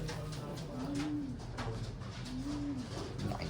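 A racing pigeon of Stitch Taiwan bloodline coos twice in soft, rising-falling calls about a second and a half apart, close by over a steady background hum.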